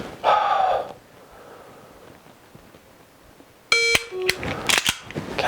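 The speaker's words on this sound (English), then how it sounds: "I'm going to get a beep and I have to go and get that trigger to break" Shot timer beep followed by the click of a dry-fire trigger break on a pistol with an enhanced Mantis-style trigger, a short electronic tone at the start, then a sharp snap and handling noises.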